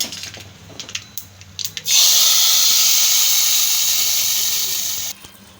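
Tempering of asafoetida and curry leaves poured into a snake gourd and moong dal kootu, a sudden loud steamy hiss bursting in after a few light clicks and holding for about three seconds before cutting off.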